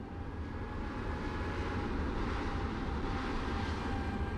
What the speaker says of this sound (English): I hear an airplane.